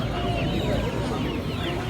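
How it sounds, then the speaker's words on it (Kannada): Giriraj and country chicken chicks crowded together at an Aseel poultry market, a dense continuous chorus of peeping and clucking close by, steady throughout the short moment. "ನಿಮಗೆ ಇಲ್ಲೇ ಗಿರಿರಾಜ್ ಮರಿಗಳು, ನಾಟಿ ಕೋಳಿ ಮರಿಗಳು ಎಲ್ಲ ಸಿಗ್ತವೆ"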